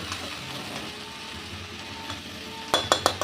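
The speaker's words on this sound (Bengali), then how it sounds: "এবার লাউটাকে মশলার সাথে একটু ওলট পালট করে নেব" Chopped bottle gourd tossed with spices in hot oil, a steady close sizzle of frying, ending in a few sharp clattering scrapes of a spatula against the pan.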